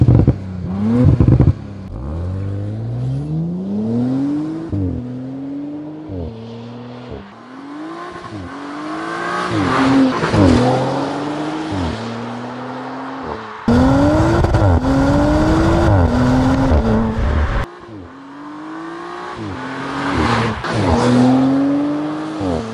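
An Audi RS5 V6 biturbo accelerates hard through several gears, its loud engine note climbing in pitch again and again and dropping sharply at each shift, near and continuous, with brief pauses between runs.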